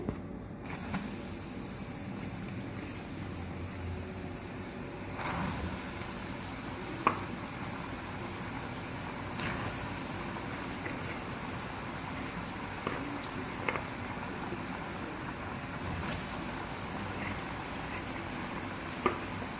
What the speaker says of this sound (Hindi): अब इसको फ्राई करते हैं। ऑयल हमारा गर्म हो चुका है।